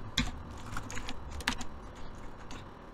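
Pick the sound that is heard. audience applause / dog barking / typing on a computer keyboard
typing on a computer keyboard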